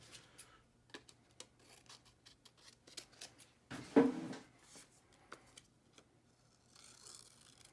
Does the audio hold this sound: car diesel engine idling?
no